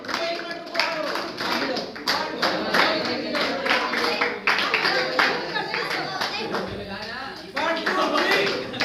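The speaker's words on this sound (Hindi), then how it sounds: "बहुत बढ़िया, बजाते रहो ताली।" An audience claps steadily through a lively gathering with a young guest from Kirti Nagar, the dense patter continuing for several seconds under a voice urging it on.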